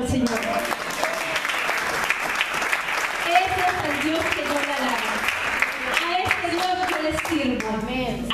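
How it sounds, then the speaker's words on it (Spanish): A church congregation claps together in a lively, continuous round of applause, while a voice sings or calls out over the clapping and the mix stays busy throughout. "¿Cuántos dan un aplauso al Señor?"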